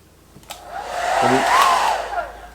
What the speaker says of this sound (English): take your wife's, your girlfriend's, maybe your hair dryer, you never know, and we're going to set it on high